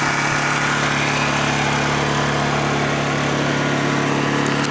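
Close-range exhaust of a running Honda EU2000i portable inverter generator, an even, loud buzzing engine drone that holds steady in pitch and volume from start to finish.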